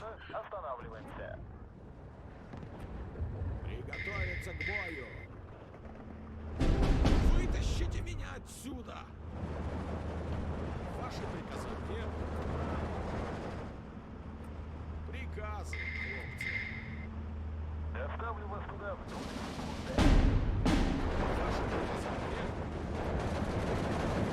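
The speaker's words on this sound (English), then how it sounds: "Artillery's gonna come in here soon." Artillery fire in the WW2 strategy game Steel Division 2: two heavy, booming volleys crash out over a continuous rumble of distant battle, with a voice talking over the fighting.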